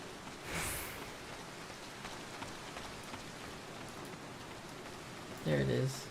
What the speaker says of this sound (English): It's too much rain.